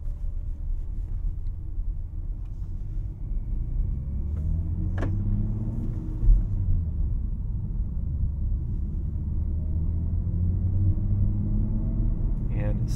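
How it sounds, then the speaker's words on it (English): A 2021 BMW M4 rolling over gravel, heard from inside the cabin as a steady low road rumble with faint crunching and occasional light ticks and knocks, constant in level for the whole stretch. "We are in gravel, so you're going to hear things. It's not anything braking, it's just gravel."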